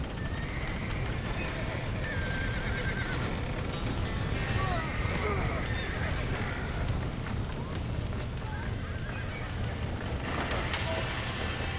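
Horses gallop with rapid hoofbeats and whinny now and then in a busy Red Dead Redemption soundscape, over a steady rushing background with a voice speaking.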